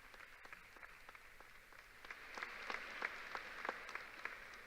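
An audience at a 2022 early college high school graduation claps in a steady wash of applause for the board of trustees, starting moderate and swelling louder toward the end, with no talk over it.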